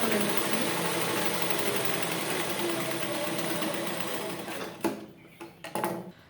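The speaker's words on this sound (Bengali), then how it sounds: "এটা ডবল ভাজে সোজা করে আমি সেলাই করে নিচ্ছি।" Sewing machine stitching a ladies' dress seam folded double, a steady fast whirring hum that runs loud and unbroken before slowing into a few short bursts near the end.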